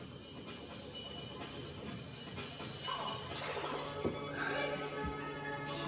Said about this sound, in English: we're on the train to Italy